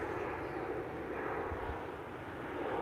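An airplane takes off nearby, a steady broadband engine roar that stays faint and distant and holds evenly throughout with no talk.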